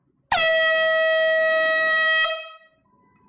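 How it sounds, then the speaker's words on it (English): A single loud air horn blast blares steadily for about two seconds, then cuts off and fades out into near silence. "we're blowing an air horn for the sale of his autograph"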